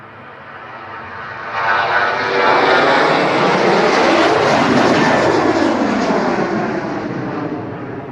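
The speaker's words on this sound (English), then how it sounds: "this Ryanair 73 now on the roll to Brussels" Ryanair Boeing 737 rolling down the runway on its takeoff run to Brussels at Manchester Airport, its jet roar swelling loud and sustained and then slowly easing as it pulls away.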